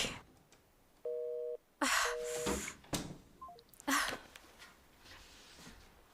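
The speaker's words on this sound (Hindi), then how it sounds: "फोन उठाओ जल्दी।" A telephone gives two short, clear electronic ring tones in quick succession, followed by quieter rustling and faint background sounds.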